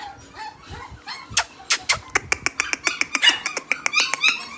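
Pomeranian puppies in a cage bark at night in a rapid run of shrill, repeated yaps that grow denser and louder toward the end, heard up close with no talking.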